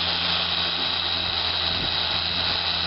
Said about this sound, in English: You can hear the difference in how that motor is revving.